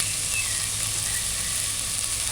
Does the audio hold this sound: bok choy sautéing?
yes